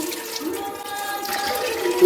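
Water pours and splashes steadily into a cooking pan of baby jackfruit curry, a continuous running, trickling sound at close range.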